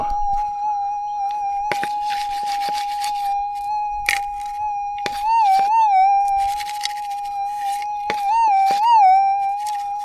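A metal detector's steady, mellow electronic target tone drones continuously over a lead shot, swelling and warbling in pitch a couple of times, with scratchy digging and scraping noises underneath.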